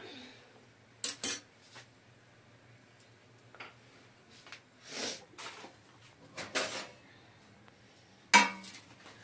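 Someone rummages through kitchen utensils for a spoon to lift out puri, with scattered metallic clinks and clatters of cutlery and pans, irregular and fairly close.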